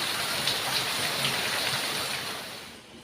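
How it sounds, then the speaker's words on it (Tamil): Heavy rain falls in a thick, steady roar of drops on surfaces nearby, constant throughout and easing slightly toward the end. "சரியான மழை போயிட்டு போகிறேன்"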